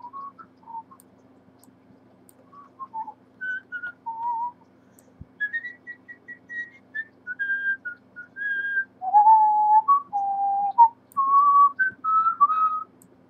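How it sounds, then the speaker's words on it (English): Someone whistles a meandering tune alone, with short melodic phrases broken by pauses and growing louder and more sustained toward the end, over a steady low electrical hum. "I gotta stop whistling because whistling sounds horrible on a recording."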